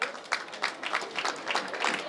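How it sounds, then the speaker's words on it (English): Applause from a school audience at a sports event, steady broadband clapping rippling through the whole stretch, a crowd of hands sustained and fairly loud without a break. "Are we clapping for them?"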